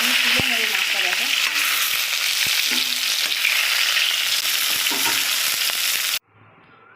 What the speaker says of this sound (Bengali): তো দেখো মাছটা এরকমভাবে ভেজে নিতে হবে, সুন্দর করে ভেজে নিতে হবে।